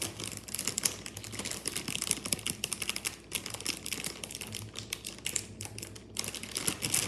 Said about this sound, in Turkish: Büyük paketimizi açıyorum